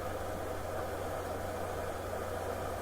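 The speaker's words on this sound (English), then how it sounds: "I do wish the truck sound, the engine from the truck was a little less." A truck engine idles in American Truck Simulator with a steady, close, low mechanical drone and a faint knocking vibration, running unbroken and alone.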